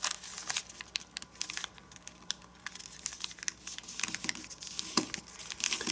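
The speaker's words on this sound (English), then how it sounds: "let's fold this edge to here" Paper crinkles and crackles in bursts of small crisp rustles as a sheet is folded into an origami Super Dragon Deluxe, close and moderately quiet, with no talking.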